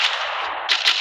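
An AWM sniper rifle fires in the Free Fire game, giving a loud, close burst of sharp, noisy gunfire that lasts about a second.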